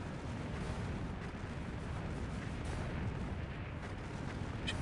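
Rocket launcher units fire in the strategy video game Earth 2150: The Moon Project, a dense continuous barrage of booming blasts and explosions filling the whole clip at moderate level, with no talk.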